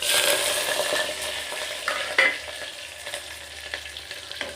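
Onion and green chilli sizzle in hot oil with popped mustard and fenugreek seeds for a fish curry, a steady close frying hiss with a few stirring clinks and scrapes, no voices.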